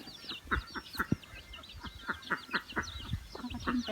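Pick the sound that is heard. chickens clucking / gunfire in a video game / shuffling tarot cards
chickens clucking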